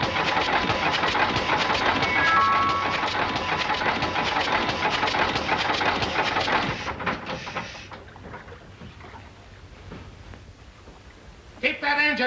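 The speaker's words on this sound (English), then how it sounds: "Keep that engine running." A boat engine idles and runs with a steady rumbling drone for several seconds, then cuts out to quiet, leaving faint background noise and a brief bump near the end.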